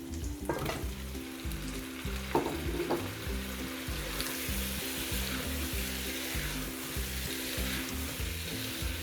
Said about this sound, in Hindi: चिकन को भी हम 2 से 3 मिनट बहुत अच्छी तरह से भून लेंगे